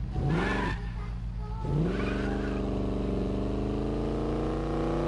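A car engine from the racing game Need For Speed Payback revs loudly twice, then holds a strong, steady drone with some tire noise. No one talks over it.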